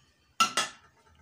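A wok and metal spatula handled in a home kitchen, giving two quick close metallic clanks about a fifth of a second apart, each ringing briefly before fading into near silence.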